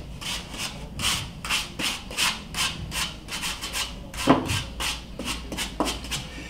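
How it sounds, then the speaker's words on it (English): Steady back-and-forth rasping of a sanding block on a surface, a quick regular rhythm of strokes, close and moderately loud, with no talking. "sanding block."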